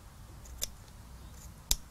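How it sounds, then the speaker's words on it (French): Scissors cutting horizontally through vertical-garden fabric cloth, two crisp close snips about a second apart over a quiet background, no talking. "avec les ciseaux, on va couper"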